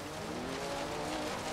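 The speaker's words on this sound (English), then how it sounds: "I just drift it around the corners." A Porsche Cayman GTS drifts through a corner in the video game Forza Horizon 3. Its tires squeal steadily over a loud, rising engine note, all in one continuous skid.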